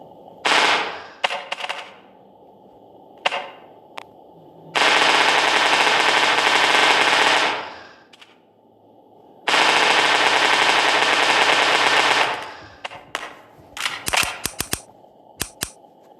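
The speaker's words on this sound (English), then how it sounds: "We're making a minigun." Minigun firing in the Melon Playground video game: two long, loud, sustained bursts of rapid fire, each a few seconds long, with shorter sharp shots and clicks around them.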